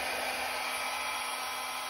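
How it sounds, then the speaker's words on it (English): Hair dryer on its cool setting blowing over wet pearl paint poured on a canvas, a steady, loud, close-up airy whir with a constant hum and no voices. "now I'm gonna grab my blow dryer and on the cool setting,"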